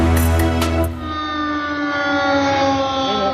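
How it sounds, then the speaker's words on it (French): A city civil-defense warning siren wailing during a flood, a loud, steady tonal blare that holds its pitch, sounding alone and close. "La sirène de la ville a retenti pour alerter les habitants."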